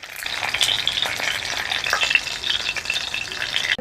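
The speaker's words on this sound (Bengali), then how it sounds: "হোক আমার ক্যাপসিকাম ভাজা হয়ে গেছে" Stuffed capsicum frying in oil in a pan produces a close, continuous crackling sizzle with fine popping and light stirring noises, steady throughout, with no speech.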